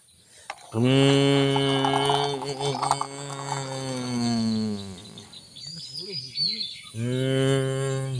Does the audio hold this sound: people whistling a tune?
no